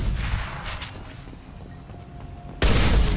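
Gunfire from the Mass Effect 2 video game comes as dense, booming bursts, fading to a quieter stretch before a loud blast of shots returns near the end.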